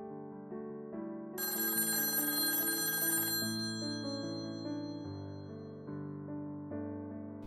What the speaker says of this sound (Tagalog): nag-aabang din ako na mag-ring itong rotary phone